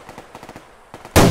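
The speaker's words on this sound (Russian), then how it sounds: "Четко в него выстрелил" Gunfire in the video game Survarium, a quick run of soft, evenly spaced shots followed by a brief pause and then one loud, close burst at the end, with no talking.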